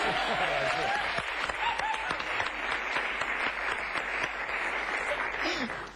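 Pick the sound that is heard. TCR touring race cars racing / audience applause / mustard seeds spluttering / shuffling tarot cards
audience applause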